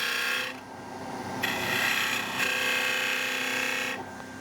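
Cutting tool working a hard burl bowl on a woodturning lathe, a steady scraping rasp at close range that swells and eases in passes over a few seconds, with no voices.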